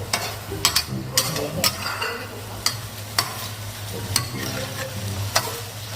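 Thai stir-fry sizzling loudly in a pan right after holy basil leaves go in, with steady frying hiss and repeated scraping stirs of the spatula at close range, no voices.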